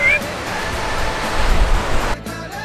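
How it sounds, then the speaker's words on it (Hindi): Heavy rain falls outdoors in the Himalayas, making a close, steady hiss that swells midway and then cuts off abruptly near the end. "it's raining like anything"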